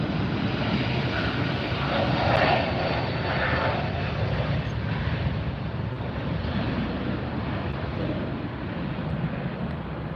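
A Delta airliner passes at Los Angeles International Airport, its broad jet engine roar steady and loud throughout, swelling slightly early on, with wind buffeting the microphone.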